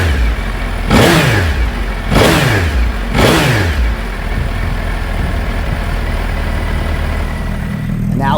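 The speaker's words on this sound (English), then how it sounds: "the very restricted Gen 2 Suzuki HAYABUSA exhaust system" A Gen 2 Suzuki Hayabusa with its restricted stock exhaust revs sharply three times in quick succession, each blip rising and falling back, then settles into a steady idle rumble.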